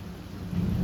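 A brief low rumble of thunder over a soft wash of rain, close and fairly loud.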